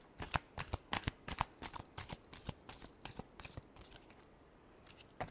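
Tarot cards riffled in a steady run of crisp, rapid bursts, about a dozen quick shuffles close by that taper off into near silence before one last flick.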